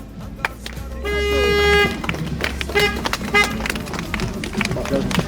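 A car horn gives one long, steady honk, then a few shorter toots follow, with people talking nearby throughout.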